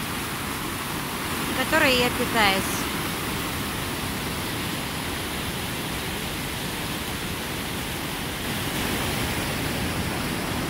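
A stream rushes with a steady, even roar throughout. Someone speaks briefly near the start over the water noise.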